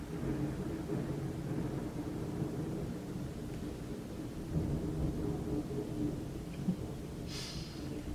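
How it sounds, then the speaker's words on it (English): Thunder from an approaching storm rolls as a low, continuous rumble, faint and distant, with no voices over it. "Looks like we're gonna get a storm. I don't know if y'all heard that, if the camera picked that up."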